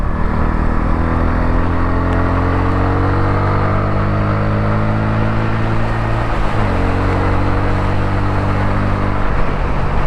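A 2024 Bajaj Pulsar N160 motorcycle is ridden at speed, its engine droning loudly and continuously with rising pitch through the gears and a brief dip at one shift, under heavy wind rush.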